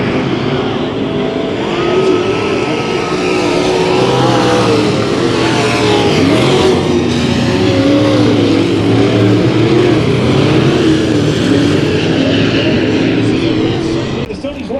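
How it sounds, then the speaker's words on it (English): A dirt track race car with a 5L engine comes to the finish line during a heat race at Kern County Raceway, its loud engine roaring steadily under an announcer's commentary. "we'll watch this 5L machine of Laney come to the finish line"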